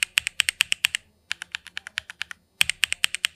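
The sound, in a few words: typing on mechanical keyboard with low-profile ABS keycaps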